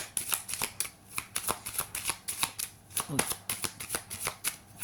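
Oracle cards being shuffled by hand, a quick run of crisp riffling flutters and soft slaps in an irregular rhythm, close and fairly loud, with no talking over them.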